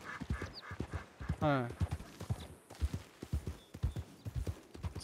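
A horse in a video game clops along on a hunting outing around Valentine, the hoofbeats in a rhythmic trot under someone talking, with a brief whinny partway through.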